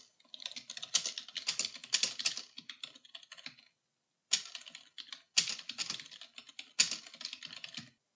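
Typing on a computer keyboard, rapid close key clicks in bursts, with a short pause in the middle before the tapping resumes, no voices.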